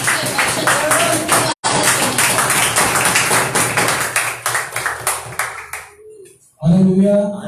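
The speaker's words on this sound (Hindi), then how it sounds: "तो क्यों ना आज की शाम आप प्रभु के दास डैनियल ब्रदर का भी आप तालियों के द्वारा स्वागत करें।" A church congregation at a Sunday service claps steadily to welcome a preacher, a loud, dense run of handclaps lasting several seconds, briefly cut off, then fading before a voice begins speaking.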